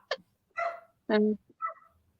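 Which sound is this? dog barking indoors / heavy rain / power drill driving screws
dog barking indoors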